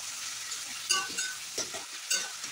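A spoon stirs fried shrimp with taro greens in a hot pan, giving a steady sizzle with a few sharp scraping clinks spaced irregularly, close and moderately loud, with no talking.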